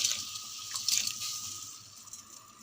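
Washed Egyptian rice tipped into a pot of water heating on the stove, a soft splash and gentle watery pour with light trickling, close and fairly quiet.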